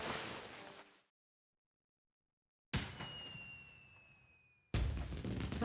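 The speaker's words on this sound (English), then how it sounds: "Pretty fireworks." In Okami HD, a bomb goes off in short bursts of game fireworks, with two sharp crackling blasts separated by silence and a ringing, whistling tail fading after the second.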